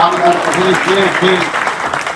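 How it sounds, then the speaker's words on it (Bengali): A crowd claps steadily at a gathering in Urdu Road market, the applause loud and continuous with a voice over it. "আপনারা সবাই তালি দেন"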